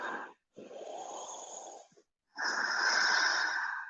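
Deep breathing during a yoga twist in a morning flow session: two long, loud, breathy inhales or exhales with a slightly wheezy, airy texture, separated by short pauses, close to the microphone with no talk.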